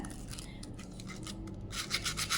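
Something rubs hard against the metal of an old, rusty sewing machine, a close, continuous scraping and rasping with uneven strokes that grows a little louder near the end.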